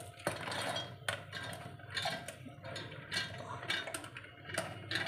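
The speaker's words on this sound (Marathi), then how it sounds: "यामध्ये आता आपण ही डाळ घालून घेणार आहोत।" Soaked dal is spooned into a mixer jar, giving a run of light metallic clinks and taps against the jar at close range, with no talk.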